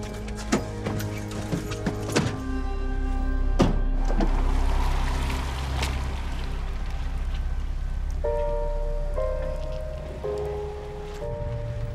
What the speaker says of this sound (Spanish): No me gusta la lluvia.